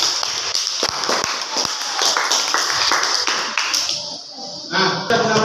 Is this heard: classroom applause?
yes